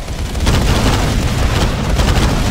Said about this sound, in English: Watch out, rockets coming in.